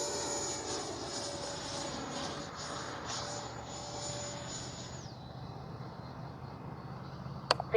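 An E-flite 70mm Viper RC electric ducted-fan jet flies past at a distance, giving a steady, fairly faint whine whose pitch drops midway through, with breezy background noise and no talk.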